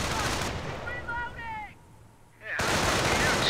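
Loud bursts of gunfire from a Company of Heroes battle open and close the moment. A voice speaks briefly during a quieter gap in the shooting.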